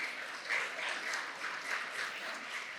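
Church congregation applauding during a sermon, a soft, even wash of many hands clapping throughout, distant and fairly quiet, without voices on top.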